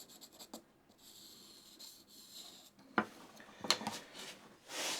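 A marker squeaks and scratches as it rubs along the bevel of a pair of workshop scissors, giving soft, close friction strokes followed by a few light metallic taps and clicks.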